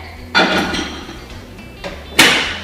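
A couple of hollow clunks from a microwave door, one early and a sharper shut near the end, with quiet kitchen hum between.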